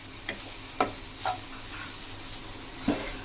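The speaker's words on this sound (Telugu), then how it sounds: "ఈ విధంగా ఫ్రై చేసుకుందాం." Okra stir-fried in a pan with masala and chilli powder, a faint low sizzle beneath a few sharp scrapes and taps of a spatula against the pan.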